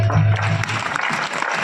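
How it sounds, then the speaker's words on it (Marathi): A festival crowd at a village Durga temple claps together in a dense, steady burst of applause, loud and close, with low voices briefly mixed in at the start. "आई करे टाळी वाजवा"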